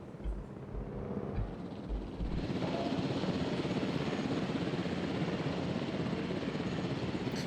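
Helicopter in the video game Jurassic World Evolution: a steady, loud rotor and engine drone that starts with faint chopping pulses and swells to a constant whir for the rest of the clip, with no talk.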